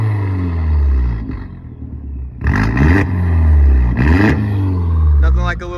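A small-block turbo engine in a VW revs hard in repeated rising and falling surges, loud and close, with talk in between.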